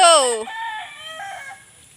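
Farm chickens on a dragon fruit harvest property, a loud nearby rooster crowing with rising harmonic calls, trailing into softer fowl vocalizations.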